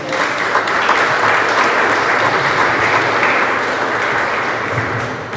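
A church congregation at an OBPC service in Botucatu applauds to welcome the preacher, a loud, dense, unbroken round of clapping filling the hall for several seconds.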